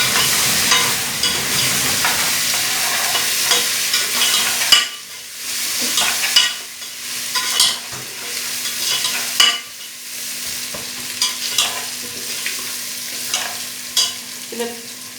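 Ginger garlic paste fries and is stirred in a pan for mutton karahi, a steady close sizzle broken by repeated scraping stirs, with no voices.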